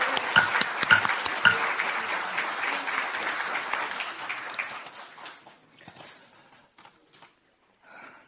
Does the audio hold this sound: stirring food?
no